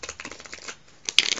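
Playing cards being shuffled for a game of Canasta at a Christmas gathering, a soft riffling patter early on, then a closer, brighter burst of card flutter near the end.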